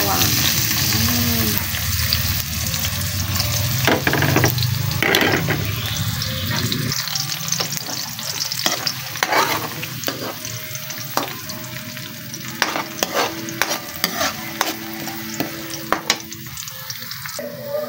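Garlic sizzles loudly in hot oil in a pan for a seafood curry, with a steady frying hiss and repeated scraping stirs up close throughout.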